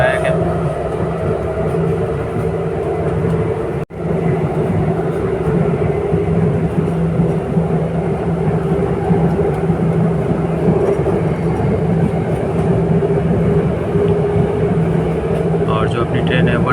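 Inside an RRTS rapid rail train cruising around 130 km/h, a loud steady low rumble and hum of the running carriage fills the cabin, with one brief dropout early on; a voice talks over the continuous travel noise.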